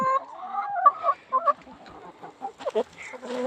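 Several chickens clucking and murmuring nearby in a coop in short bursts, with a few squawkier calls toward the end.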